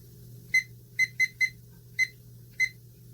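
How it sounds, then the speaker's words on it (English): A kitchen timer gives six short, sharp electronic beeps in an irregular rhythm while being set, close by and clear over a low steady hum, with no talking. "So let me set up my timer."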